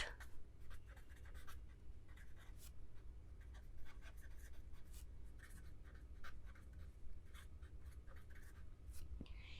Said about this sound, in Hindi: और यहां पर हम लिख लेंगे